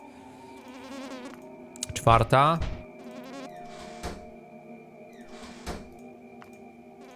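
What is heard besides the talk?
buzzing fly in Bad Dream video game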